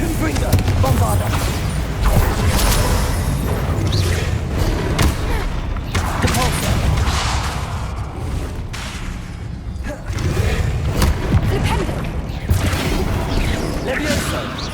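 Confringo and Bombarda spell blasts in Hogwarts Legacy land as a rapid series of loud, booming impacts and thuds, with a voice talking over the bursts.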